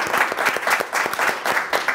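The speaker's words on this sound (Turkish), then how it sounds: "Hatice'ye alkışlıyorum." Studio audience applause on a Turkish cooking show breaks out for the week's best maki sushi, a short burst of dense, even clapping lasting about two seconds.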